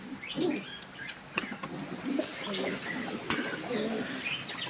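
Soft pigeon coos repeat at a moderate distance, mixed with scattered bird chirps and brief wing flutters over a busy background.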